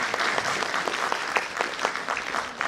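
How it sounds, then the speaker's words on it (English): An audience at the Vyom-2 annual function in 2019 gives a steady round of applause, dense, continuous clapping from a crowd throughout. "Can we have a huge round of applause?"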